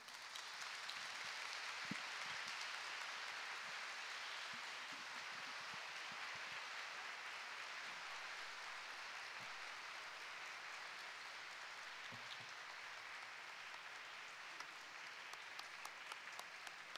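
Applause from an audience after a lecture on how art influences the brain, a steady, even patter of many hands sustained throughout, heard faintly and at a distance.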